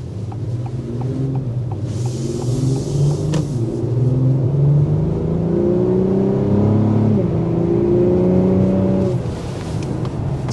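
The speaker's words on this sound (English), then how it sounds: "Still sounds pretty good even in the normal mode when accelerating, for sure." 2024 Acura TLX Type S with its turbocharged V6 accelerating in normal drive mode, a loud, close engine note rising through the revs with a gear change, steady rumble underneath.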